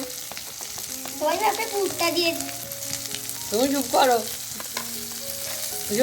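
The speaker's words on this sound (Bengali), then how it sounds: "সব ভাজা ভাজা হবে, তারপরে সুজিটা তুলে দেওয়া হবে" Food sizzling in a frying pan on a home stove, a steady close hiss running throughout while people talk over it.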